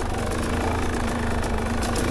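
A Fantic XE 300 motorcycle idles steadily, its engine close and loud with a continuous rough, throbbing rumble from start to finish.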